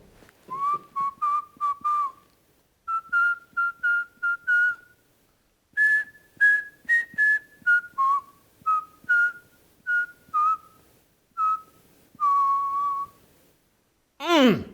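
A person whistles the simple tune "Farmer in the Dell" in short, clear phrases with brief pauses between them, alone and close.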